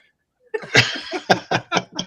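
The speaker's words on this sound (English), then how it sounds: "I can hear you sneezing before it comes on here." A person sneezes or sputters in a quick burst of several sharp, close, loud expulsions after a brief quiet start, with no speech.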